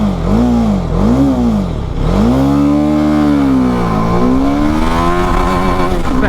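An Apache RR 310 motorcycle in sports mode revs and accelerates hard, engine pitch climbing and dropping with each gear change in repeated loud, close surges, with no talk over it.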